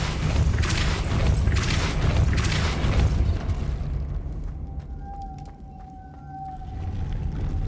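A Depulso spell cast in Hogwarts Legacy: a loud, deep, rushing burst that lingers for several seconds and then fades into a quieter, low, humming tone.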